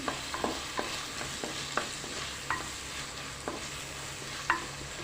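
Green chillies and curry leaves sauté in a pan with sliced onion. A low sizzle runs beneath a string of quick spatula taps and scrapes at irregular intervals, close and without speech.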